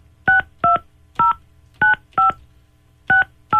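Someone dials a phone number, giving seven distinct DTMF keypad beeps. The short, clean tones come in an uneven rhythm, close and clear over a quiet background.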